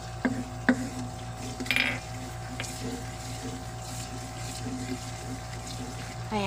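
Sauce with salt and pepper being mixed in a pan for garlic buttered shrimp, soft bubbling and intermittent utensil clinks against the pan, fairly quiet and close, with a voice speaking faintly.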